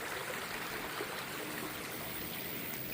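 A river swollen after rain rushes along in a steady, dense wash of flowing water, close and even throughout with no voices.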